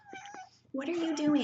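A pet cat meows loudly and plaintively at close range in a long, wavering cry, following a few brief softer sounds and a spoken question.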